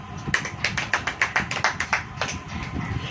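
Church congregation clapping hands during a Hindi sermon, a run of about a dozen sharp, fairly steady claps, close and clear with a brief pause before a few more.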